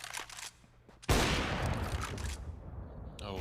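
A sudden burst of gunfire cracks out during a Counter-Strike match on Mirage, loud close rifle shots and rapid follow-up fire over low background ambience, with no talk.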